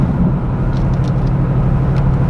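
A Range Rover fitted with a full exhaust cruising at normal driving speed, a steady low engine drone and road rumble heard from inside the cabin, loud and continuous.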